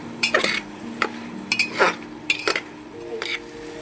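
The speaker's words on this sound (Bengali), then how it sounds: "এবার একটু নেড়ে মিশিয়ে নেবো আমি।" Kashmiri red chilli is stirred into sambar in a pot, making a series of short scraping and clinking strokes of a spoon against metal, close and fairly loud.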